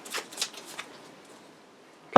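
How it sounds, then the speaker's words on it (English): A deck of Judge Dredd: Helter Skelter board game cards shuffled up close, with a few quick riffling bursts and then a sharp final snap as the deck is squared. "Their deck's empty, so let's give it a shuffle."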